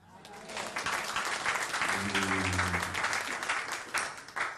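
A church congregation breaks into sustained applause, a dense wash of clapping hands that swells and holds for several seconds. Voices and a low sung or hummed tone sit faintly underneath.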